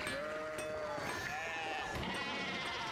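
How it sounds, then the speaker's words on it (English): Sheep in the video game Pentiment bleat repeatedly, several overlapping calls over a soft outdoor background. "Hey, freaking sheep, dude. They're everywhere."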